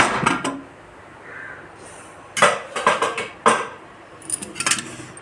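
A pressure cooker holding dal and goat intestine is opened after three whistles: sharp metallic clanks and clinks of the lid and pot come in close, irregular bursts separated by quiet gaps.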